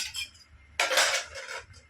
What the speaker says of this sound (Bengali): এই যে বাসনগুলো ধুয়ে নিয়ে আসলাম রাখলাম এখানে